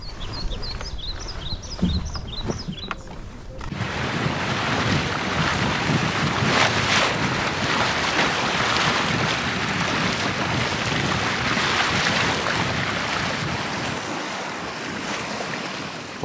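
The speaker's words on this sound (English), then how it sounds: "for just a little 12-foot dinghy, the Scamp performs extraordinarily well in a strong wind in rough water" A 12-foot Scamp sailing dinghy runs through rough water in strong wind, with loud continuous wind buffeting and waves slapping and rushing against the hull, preceded by a few seconds of quieter water sounds.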